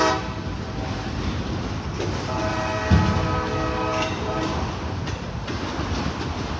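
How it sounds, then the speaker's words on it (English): CSX freight train rumbling past outside in the aftermath of Hurricane Helene, a continuous heavy low rumble with clanking wheel and wagon noise, plus a sharp knock and a faint horn tone partway through. "Nothing like being woken up at my desk with 17 minutes to go in the day by a train rumbling outside."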